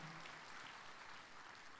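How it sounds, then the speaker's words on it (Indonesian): Steady audience applause fills a stand-up comedy show in Indonesia, a dense, continuous wash of clapping from a large crowd that holds at an even loudness throughout, with no talk over it. "Silakan tepuk tangan buat ibu-ibu dan wanita yang hadir siang hari ini."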